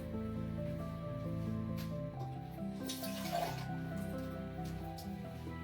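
Water trickles and drips into a paint-rinse cup for an acrylic painting brush, a soft running pour with small splashes and drips at close range over a faint background hum.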